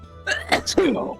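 A single sharp sneeze cuts in beside a voice at a late-night tabletop game session, brief and close, with a breathy burst and a falling tail.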